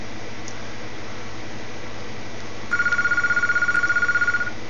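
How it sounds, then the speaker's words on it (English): A telephone rings in a quiet room, a steady electronic warbling tone pulsing rapidly for a couple of seconds over a constant background hiss of fan noise, with no talking. "But I have to answer the phone, so this tutorial's got to end."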